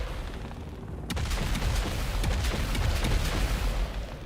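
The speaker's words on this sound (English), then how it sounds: "It's a lot of rockets." A barrage of rocket explosions in the game Dune Awakening: quiet at first, then a sudden loud blast followed by continuous rumbling booms and cracking impacts that keep going to the end.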